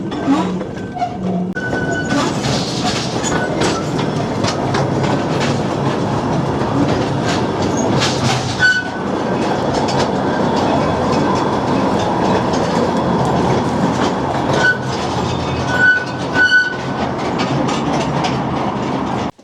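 A small Queen Mine tour train in Arizona rolls steadily along rails with a continuous rumble, rhythmic clicking and occasional metallic squeals, close by and fairly loud.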